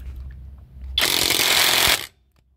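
A One Van 1800 Nm impact wrench loosens a tight Blazer wheel bolt, giving one loud, dense, rattling burst of about a second that then cuts off to quiet.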